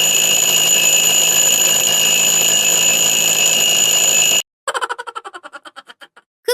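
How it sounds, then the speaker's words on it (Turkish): A Roblox Brookhaven alarm clock rings with a steady, shrill electronic tone for several seconds, then cuts off and gives way to a series of quick bouncing pulses that shrink and fade, followed by a brief burst. "alarmı niye kurdun sen?"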